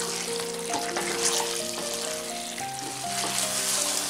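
Mutton kadai with green chillies sizzling in a pan, a steady close frying hiss with light stirring scrapes and a few tonal clinks, no voices.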